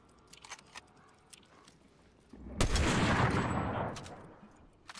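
Gunfire in Fortnite, a few sharp distant cracks followed by one loud close shot and a burst of dense rattling blasts that tail off, with faint scattered clicks around them and no talk.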